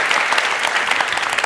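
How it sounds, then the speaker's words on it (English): Audience applause after a talk on communication, dense and steady clapping from a large crowd, loud and close, filling the short moment with no speech over it. "Give yourselves a round of applause."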